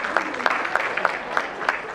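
Applause from a small group welcoming a guest at a corporate summit on sustainable FMCG growth at a business institute: evenly spaced, rhythmic claps about three per second, near and fairly loud.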